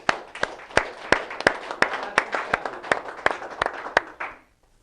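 During an office meeting, a group claps in an even, rhythmic beat, sharp close claps about three per second, and the clapping stops abruptly after a few seconds.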